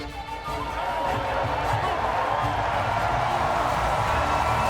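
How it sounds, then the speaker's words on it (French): Steady crowd noise at a boxing match, with applause and murmuring from a large arena audience forming a continuous, even roar that carries on without a break. "the crowd applauding that game effort of Johann Duhaupas"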